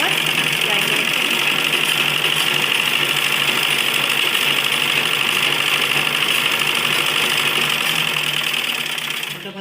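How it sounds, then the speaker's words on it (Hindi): A sewing machine runs steadily through stitching a seam on a baby frock, a continuous loud whirring buzz that holds for the whole stretch and eases off slightly at the end. "इस तरीके से देखिए इधर हमने सिलाई लगा दी"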